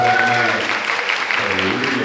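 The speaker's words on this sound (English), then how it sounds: "Y'all give a round of applause." An audience applauds briefly at a gathering with a Flint, Michigan councilman, the steady clapping mixed with voices and talk throughout.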